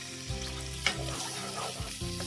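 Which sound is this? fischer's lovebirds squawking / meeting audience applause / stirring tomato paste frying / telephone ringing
stirring tomato paste frying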